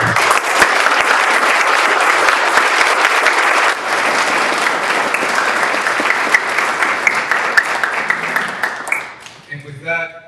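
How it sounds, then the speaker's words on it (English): A large audience claps loudly and continuously for about nine seconds, the applause thinning and fading out, after which a voice begins speaking. "Everyone involved in this program deserves a huge applause"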